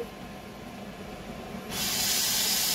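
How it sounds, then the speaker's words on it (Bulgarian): A Tefal Cook4Me Touch multicooker releasing steam: a quiet background hiss swells abruptly into a loud, steady, close rushing hiss partway through. "И започва изпускането на парата."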